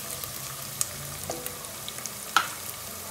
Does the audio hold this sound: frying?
yes